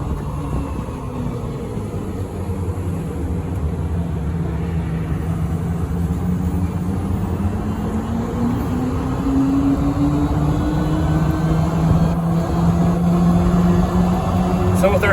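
A custom lifted four-seat GEM electric car cruises along with a steady road rumble and a motor whine that slowly rises in pitch, continuous and close throughout.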